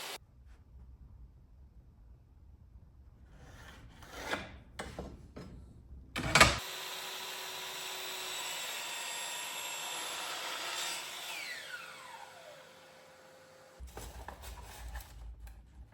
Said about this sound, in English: Now that the timber's been milled down to size, I can cut the components out of the boards.